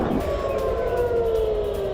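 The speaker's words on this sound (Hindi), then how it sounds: "तेल अवीव में मिसाइल हमलों के सायरन बज रहे हैं।" Air raid sirens wail over Tel Aviv during missile attacks, one sustained tone that slowly falls in pitch, steady and somewhat distant.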